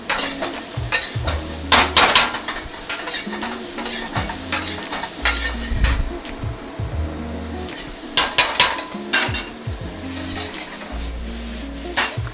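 Broccoli beef stir-fries in a wok, a steady loud sizzle broken by repeated metallic scraping and clanking as the utensil tosses the food in bursts.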